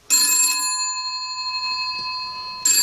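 A retro BT GPO 300 series bakelite telephone, converted to modern wiring, rings loudly with a bright electronic trill that starts, pauses for about two seconds, then starts again.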